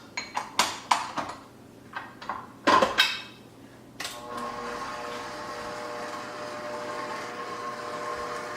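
Kitchen machine kneading bread dough: a few clinks and knocks as the bowl is attached, then the motor starts with a steady, even whirring drone that runs on continuously, close and fairly loud, with no talking.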